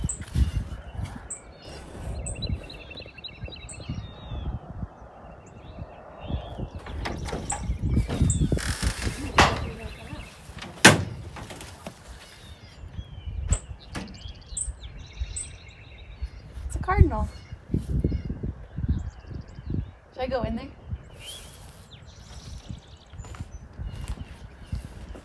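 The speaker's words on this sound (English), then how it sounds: "I looked over at the greenhouse and saw that there's a bird in here," Small bird trapped inside a greenhouse, chirping in short scattered bursts amid footsteps, rustling and clattering, with people talking intermittently nearby.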